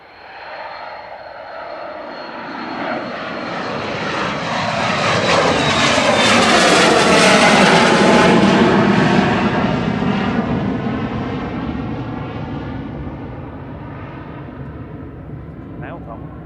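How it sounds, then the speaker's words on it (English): An Embraer Praetor 600 business jet departs Manchester Airport, its engine roar swelling loud as it passes near, then slowly fading away, with people talking over it. "Departing now, though, we've got an Embraer Praetor 600 for atmospheric aviation."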